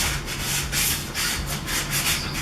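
Wood for a footstool is sanded by hand in rhythmic back-and-forth strokes, a close, steady scratchy rubbing repeating about twice a second, with no talking.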